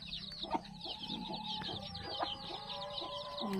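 Black Australorp chicks and a hen cluck close by, a steady run of high peeping chirps over low soft hen clucks, with a few sharper calls scattered through.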